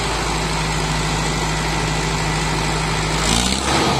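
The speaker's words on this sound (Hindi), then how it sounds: "बस आवाज अर्जुन की ढेर तगड़ी, इसके जैसी आवाज भी नहीं आती थी ट्रैक्टर की" A Mahindra Arjun tractor engine (Mahindra 555 or 605) runs loud and close while pulling a trolley of soil, a steady heavy diesel rumble that rises slightly near the end.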